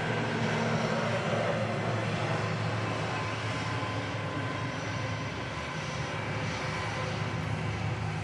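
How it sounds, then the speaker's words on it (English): An Aer Lingus ATR 72 turboprop departs from Manchester Airport for Dublin, a steady broad engine roar heard at a distance and held evenly throughout. "Aer Lingus ATR 72 heading back to Dublin."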